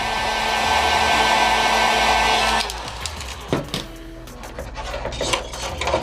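A heat gun or hair-dryer-style blower runs loud and steady for a couple of seconds, warming the adhesive of a scale light kit on the roof of an Infraction 3S RC truck. It then cuts off, leaving light handling clicks and taps.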